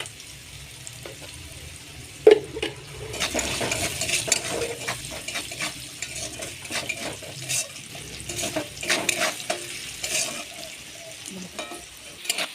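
Potato pieces sprinkled with salt and turmeric frying in hot oil, a close steady sizzle with a sharp splash at the start and scraping stirs and clinks of a spoon against the pan.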